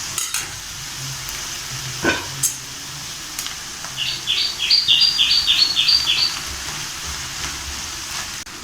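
A spatula stirs cabbage fried rice in a hot pan with scraping scuffs and a light sizzle. A burst of rapid bird chirps rises in the background partway through, and no one talks.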